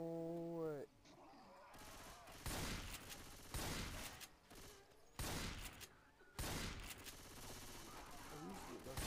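Rifle gunfire in the zombie shooter game Left 4 Dead 2, several loud bursts of rapid shots in separate volleys with short gaps between, a voice briefly heard at the start.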